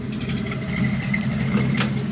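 Engine of a 1955 Chevrolet Bel Air running as the car sets off, a steady low rumble with a faint rising whine, close and moderately loud.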